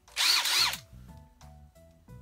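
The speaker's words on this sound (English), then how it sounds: "a couple of cordless drills" Cordless brushless drill motor whirring loudly for about half a second, then winding down and falling quiet, with faint mechanical clicks and low hum afterward.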